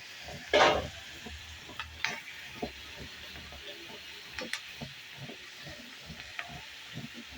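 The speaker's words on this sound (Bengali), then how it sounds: "আর এখানে আমি বসায় দিচ্ছি চিংড়ি মাছ ভাজা, দিলাম তেল" Shrimp coated in turmeric and salt hits hot oil with a sharp sizzling burst, then settles into quiet crackling with a few soft stirring scrapes and light clicks.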